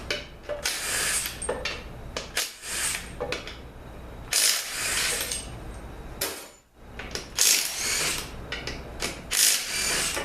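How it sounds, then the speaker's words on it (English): A ratchet clicks in repeated bursts while bolts are backed out of a 6L80 automatic transmission on a workbench, close and fairly loud with short pauses between runs of rapid clicks. "now let's get these bolts out here."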